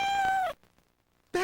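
A cat gives a clear, drawn-out meow that falls in pitch at the end, then a brief pause before a second meow begins, heard in a Meow Mix Seafood Middles cat food commercial.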